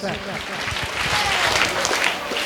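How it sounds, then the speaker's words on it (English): Applause for a student at a school investiture ceremony, crowd clapping under a voice talking over it. "Come on, give him a hand. 3 claps."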